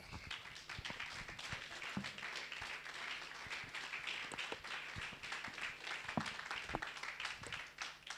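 A church congregation applauding during a Sunday service, a continuous spread of many hands clapping at moderate distance, fairly soft, with scattered sharper claps throughout.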